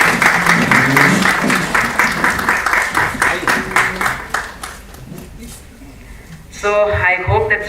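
Audience members clap for a secretary invited on stage at a school prize distribution function, quick rhythmic claps that taper off, then a person starts speaking.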